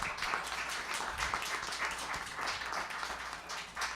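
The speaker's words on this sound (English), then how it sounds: "Let's give them a round of applause" A coffee house concert audience applauds the sound crew, fairly faint but continuous clapping from a small crowd that holds steady for the whole stretch.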